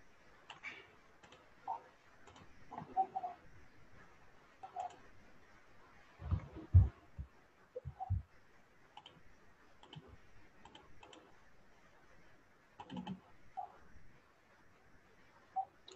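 A password typed on a computer keyboard: quiet, sparse key clicks in small irregular bursts, close and soft, with long pauses between groups.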